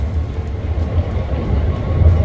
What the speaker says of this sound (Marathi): ही 2:15ची वेनलोची जी ट्रेन आहे त्याने आता मी जाणार आहे.